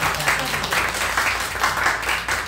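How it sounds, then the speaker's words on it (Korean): A church congregation claps together during a Sunday worship service to celebrate an elder's birthday, a steady, fairly loud wash of hand claps with rhythmic swells, faint voices underneath. "우리 장로님 우리 축하로 한번 박수 쳐드릴까요?"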